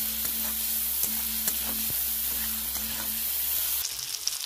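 Prawns frying with turmeric and salt in a pan, giving a steady, close crackling sizzle over a faint electrical hum, with a few small pops.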